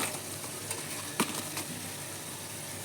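Black cumin seeds hit hot oil for tempering in a pumpkin dish, giving a steady, close crackling sizzle throughout with a couple of brief sharper pops and no talking.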